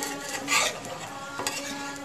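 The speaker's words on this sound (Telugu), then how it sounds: "ఇలా ఫ్రై అవుతుంది బ్రౌన్ బ్రెడ్" Brown bread for an omelette fries in a pan with a soft, continuous sizzle, punctuated by a couple of light scraping clinks from a utensil against the pan.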